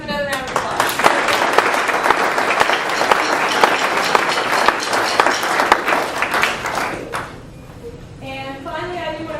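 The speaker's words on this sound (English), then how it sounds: "Give them another round of applause." Applause from the audience at a high school band spring concert, with sharp individual claps audible in a steady mass for about seven seconds, then fading out as a voice begins speaking.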